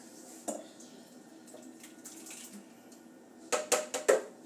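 Tomatillo enchilada sauce is poured into a container in a home kitchen: a soft, quiet trickle and drip, then a few sharp clatters of the container being handled close by near the end.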